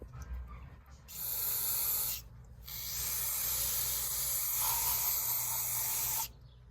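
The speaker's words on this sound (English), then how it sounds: "I'm gonna just spray it down with brake cleaner." Two long, forceful hisses of aerosol brake cleaner sprayed close up onto a Yamaha Blaster engine, the first about a second long and the second lasting several seconds, separated by a brief pause.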